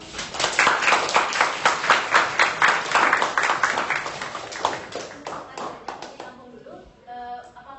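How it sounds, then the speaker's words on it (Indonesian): A classroom group claps in applause after a student's question, a dense burst of many hands lasting several seconds before tapering into scattered claps and faint voices. "Tolong beri aplaus."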